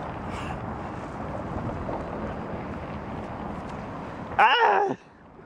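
Outdoors during kite flying, wind rushes over the microphone as a steady broadband roar. A brief loud burst near the end fits a stronger gust or a sudden vocal exclamation, then it drops to quieter background.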